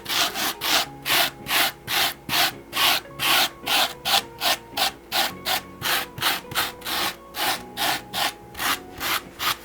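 A rapid, regular back-and-forth rubbing and scraping as a sculpted Mickey Mouse shoe is carved and rounded, each stroke a close, loud rasp repeating steadily throughout with no pauses.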